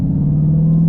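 A Polaris Slingshot engine drones in a steady, loud, low rumble close by on a wet road, holding a constant pitch through the short burst without a clear rev climb.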